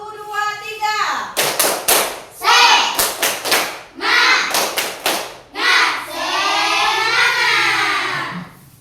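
A class of children in an Indonesian primary school does a rhythmic spirit clap, with loud bursts of hand claps in patterned groups alternating with the group chanting in unison.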